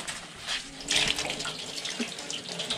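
Liquid extract dripping and trickling from a squeezed root starch mash, a steady watery splashing and patter close by with small bursts, no voices.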